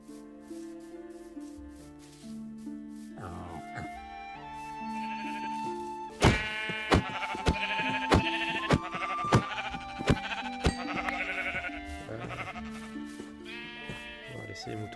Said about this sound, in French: On va laisser les moutons tranquilles.